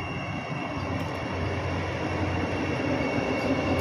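A Vande Bharat electric passenger train on a trial run between Shamgarh and Mahidpur in India, a steady broadband rumble of rolling wheels and passing carriages that stays loud and constant.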